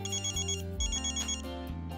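A mobile phone ringtone plays, a bright electronic melody of repeating tones in a looping pattern, clear and close with no talk over it.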